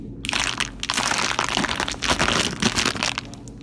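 Crinkling plastic bag holding a Volvo 440 suspension part handled up close, a dense, continuous rustle and crackle with irregular crisp bursts throughout.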